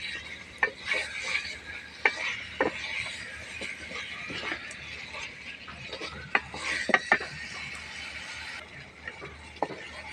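Chicken pieces being stirred and sautéed in a pot, with repeated scraping and clinking of a spatula against metal in an irregular rhythm over a soft background sizzle.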